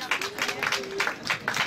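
Audience applause for a guest at a television fiction festival evening, a dense burst of clapping from a crowd with a voice speaking over it.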